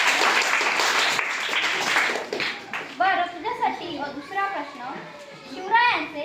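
Children in a Zilla Parishad primary school quiz in Sitane clap together in brisk, fairly loud applause for about three seconds, then the clapping fades into children's voices talking and chattering nearby.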